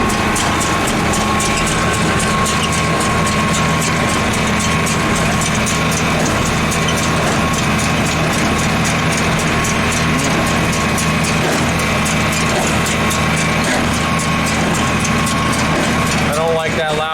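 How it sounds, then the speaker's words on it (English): A hay baler runs in a field, its engine droning loudly and steadily with a continuous mechanical clatter and rhythmic knocking throughout, close and dominant. "But I do like to hear the baler."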